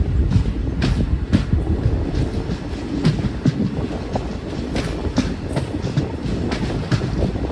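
The Buzhavan Express passenger train runs out of Tiruchirappalli Junction after a locomotive change, with a loud, continuous rumble and rhythmic wheel clacks heard from on board.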